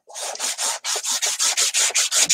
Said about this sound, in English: roughen it up a little bit so I can paint it